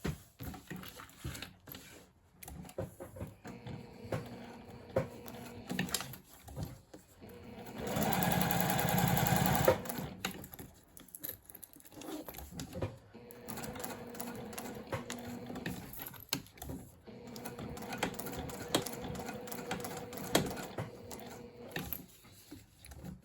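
A sewing machine stitches quilting on a bag flap and sews in a zipper, giving rapid mechanical whirring runs that start and stop, with one longer, louder steady stretch in the middle.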